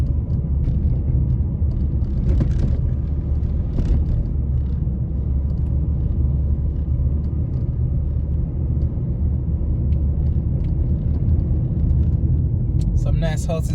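A car drives along Norbrook Drive in St. Andrew, Jamaica, its engine and road noise a steady low rumble from inside the vehicle, with a few brief knocks and a sharper rattle near the end.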